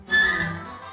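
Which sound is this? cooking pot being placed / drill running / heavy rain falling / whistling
whistling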